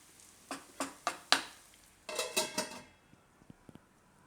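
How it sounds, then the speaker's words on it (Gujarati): A lid goes onto a cooking pot of suran shaak with tomatoes simmering on a low gas flame: four sharp metallic clinks, then a short clattering rattle, followed by a few faint taps. "હવે ઢાંકી દેવું થોડીક વાર ધીમા ગેસે"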